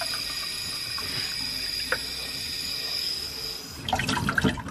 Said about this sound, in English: So now we're going to turn on some hot water.